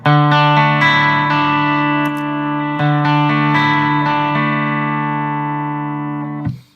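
An electric guitar played through a boost pedal turned up rings out in loud, sustained chords with bright, rich overtones, struck several times in a row and left to decay before cutting off.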